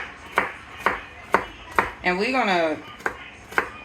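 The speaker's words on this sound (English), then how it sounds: "or you can just chop it up real good. Me, I like to see my onion" A knife chops onion on a cutting board in sharp, evenly spaced thuds, about eight strikes roughly half a second apart, with a voice speaking briefly in the middle.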